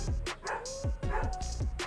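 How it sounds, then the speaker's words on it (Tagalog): A dog barks several times in quick succession, sharp yipping barks at moderate distance, with faint voices in the background. "Ang ingay ng aso ng kapitbahay. Malakas kumahol."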